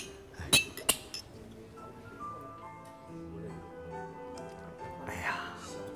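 Glasses clink together in a toast, two sharp bright chinks close together near the start, followed by a softer clink, with people talking around them over a quiet indoor background.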